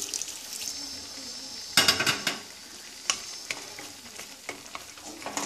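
Water is poured into a pan of frying mixed vegetables, giving a sudden hissing burst over the steady sizzle, followed by scattered clinks and scrapes of stirring, close and moderately loud.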